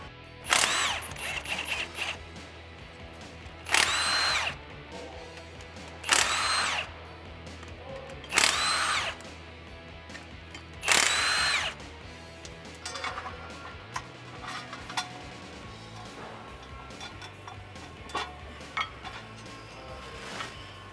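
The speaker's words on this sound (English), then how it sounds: "we're now ready to remove the stock flywheel. We got 6 bolts right here and they are 17mm." A power tool removes six 17mm bolts from the stock flywheel of a 1996-2010 Mustang GT, firing in five sharp, loud bursts a couple of seconds apart, with quieter metal clinks between them.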